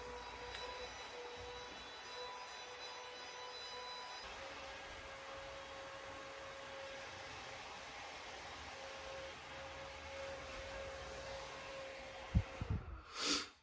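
A face dryer on its high setting gives a continuous airy whir with a steady tonal hum, close and loud, then a few clunks as it shuts off at the end.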